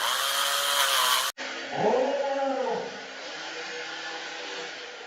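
An electric spin scrubber cleaning brush switches on with a steady loud whir, its pitch shifting briefly as the spinning head meets a surface, then settling into an even hum.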